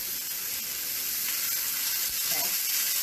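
Beef browning in olive oil in a pan for a stir fry, giving a loud, steady, close sizzle and hiss that runs throughout without a break.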